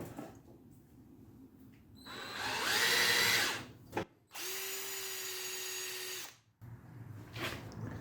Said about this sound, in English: Let's reverse the drill.